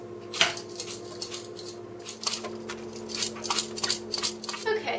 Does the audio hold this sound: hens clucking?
no